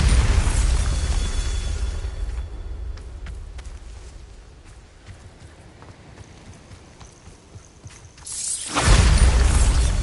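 Bombarda spell going off in Hogwarts Legacy, a loud boom at the start that decays into scattered clattering and rumbling debris, then a second heavy burst near the end.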